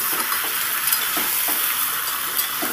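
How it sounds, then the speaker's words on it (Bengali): Spices, fish heads, fried potato and pumpkin stir-fried together in a pan, a loud continuous sizzling hiss with faint scraping strokes of a spatula, close up and without talk. "এবার একসাথে মশলা, মাছের মাথা আর আলু কুমড়ো সব একসাথে মিশিয়ে আমি নেড়ে চেড়ে কষিয়ে নেব"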